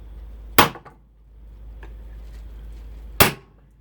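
A 3-inch chisel laid flat and struck with a small sledge to crack open scrap for copper: two sharp, loud metallic impacts about two and a half seconds apart, with a faint tap between, close and alone.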